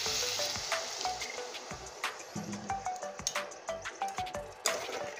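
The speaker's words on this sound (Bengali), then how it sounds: "আর অল্প পরিমাণ জল দিয়ে দিচ্ছি, না হলে মশলাটা নিচে পুড়ে যাবে" Turmeric masala sizzles in a pan as a little water is added, a close crackling hiss broken by a run of quick, rhythmic stirring taps and squelches.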